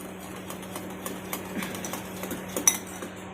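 A spoon stirs a teaspoon of tulsi powder into melted soap base, giving light, rapid clinks and scrapes against the container that repeat unevenly over a steady low hum, close and fairly quiet, with no talking.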